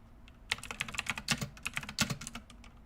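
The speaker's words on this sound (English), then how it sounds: "why am I always typing in all caps?" Rapid typing on a computer keyboard, close and fairly quiet, with irregular bursts of key clicks and no talking.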